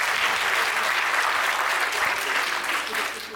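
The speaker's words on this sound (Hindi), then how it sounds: "आप लोग भी हम लोगों को तालियों से एक बार आदेशित करिए" Sustained applause from an audience at a Hindi poetry recital honoring Bhagat Singh, dense and steady clapping that fills the space before tapering slightly at the end.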